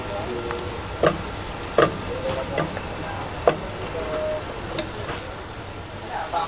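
Goat legs drop into a pot of hot oil with ground black pepper and cumin and sauté, a steady close sizzle broken by several sharp clatters of a utensil stirring and scraping.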